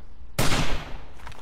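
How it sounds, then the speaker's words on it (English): Gunfire from the 7 Days To Die survival game on PS4: a sudden loud burst breaks in and rolls into a sustained, dense rattle of shots through a fence, fading slightly toward the end. "Oh, you can shoot through the fence."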